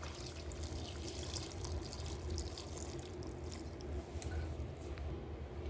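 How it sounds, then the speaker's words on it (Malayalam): Water pours into a pan of Kerala-style breadfruit curry seasoned with pepper powder and garam masala, a steady close wet trickle with drips and splashes running throughout, no talk. "ഇനി നമുക്കിതിലേക്ക് കുറച്ച് വെള്ളം ഒഴിച്ചു കൊടുക്കാം"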